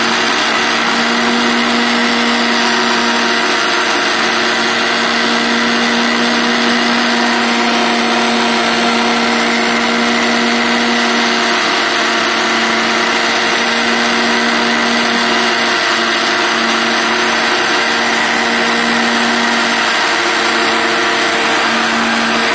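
Kitchen blender whirring steadily as it grinds egg and oil into homemade mayonnaise, a loud continuous motor drone with a constant pitch throughout and no talking.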